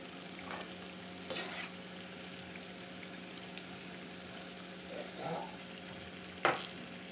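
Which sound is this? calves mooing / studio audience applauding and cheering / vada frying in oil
vada frying in oil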